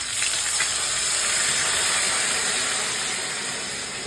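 Chili paste water poured into hot oil with frying hilsa fish, giving a loud, steady hiss and steam that fills the whole stretch, easing slightly toward the end.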